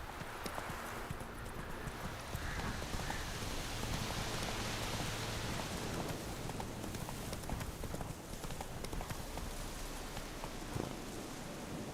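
Roach, Geralt's horse in The Witcher video game, gallops steadily through rain, a continuous run of hoofbeats over a dense wash of rainfall lasting the whole stretch.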